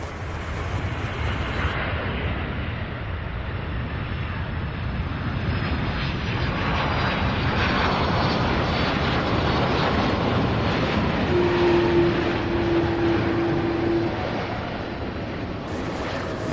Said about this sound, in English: Another incredible landing.